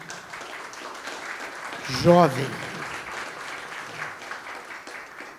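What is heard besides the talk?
audience applause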